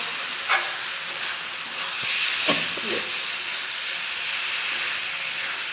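Food frying in oil in a pan, a steady soft hiss and sizzle running throughout with a few brief clinks and stirring sounds, fairly quiet and close.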